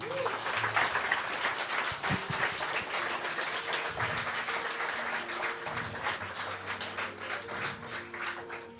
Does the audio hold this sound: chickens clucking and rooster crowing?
no